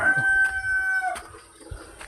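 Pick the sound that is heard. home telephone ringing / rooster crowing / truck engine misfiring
rooster crowing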